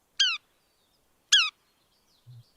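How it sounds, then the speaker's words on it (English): Two sharp, harsh bird alarm notes of a rufous-crowned sparrow, spaced about a second apart, clear against silence, followed by a faint low thump. "if you hear that, you've probably got a rufous-crowned sparrow"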